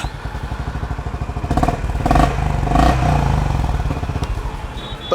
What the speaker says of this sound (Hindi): तो इस एग्जॉस्ट नोट का मैं दीवाना हूँ